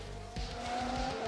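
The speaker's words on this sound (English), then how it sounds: "We've just had a spin." A race car spins in the video game F1 Manager 22, with a steady engine drone and a sharp rise of tire squeal and skidding noise that holds loud through the short moment.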